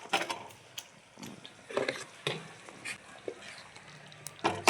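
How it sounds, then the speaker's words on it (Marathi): Pizza sauce frying in a pan with a soft, patchy sizzle broken by several stirring and scraping bursts, fairly quiet and close, with no talk. "सॉस बस फ्राय करत आहे."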